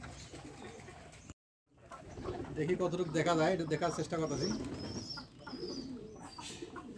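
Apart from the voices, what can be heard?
pigeons cooing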